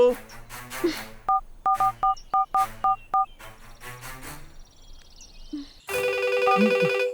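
A run of short, evenly spaced telephone keypad tones, then a steady electronic ringing burst near the end, with faint voices in the background.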